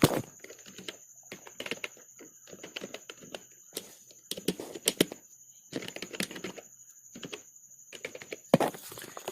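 Someone types a password on a computer keyboard in quick, irregular bursts of light, close clicks with short gaps between them, and no voices are heard.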